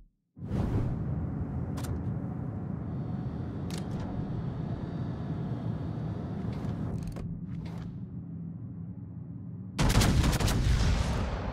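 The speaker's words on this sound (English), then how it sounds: "Provide anti-aircraft fire support." Anti-aircraft fire from the Tier 10 battleship USS Montana in World of Warships: a steady dense rattle of guns with occasional sharp cracks, ending in a louder, heavier burst.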